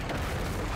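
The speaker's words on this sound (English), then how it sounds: "Oh, there's a bomb." A bomb going off in Kirby's Return to Dreamland: a brief, muffled low boom filling a short moment, fairly soft overall.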